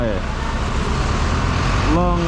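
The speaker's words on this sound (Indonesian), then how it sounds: "Saya naik bus ini ya. Saya naik nomor 70." Singapore city bus number 70 near Paya Lebar, a steady close engine rumble with road and traffic noise, a brief rising tone near the end.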